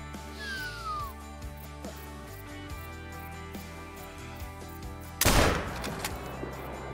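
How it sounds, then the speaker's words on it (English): A single loud rifle shot from a .243 fired at a buck in the hunting video game Call of the Wild rings out alone near the end, over a quiet backdrop of ambient game sound. "I want to go for a 300 yard shot on this buck here with the 243"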